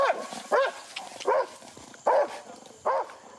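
A police dog barks five times at a steady pace at an arrest scene after a high-speed chase, each bark loud and clear against quiet surroundings with no speech.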